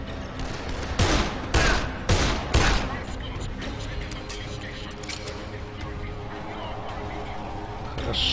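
Several sharp gunshot bursts in the video game Dead Island crack out in quick succession near the start, followed by a steady background hum with faint scattered clicks.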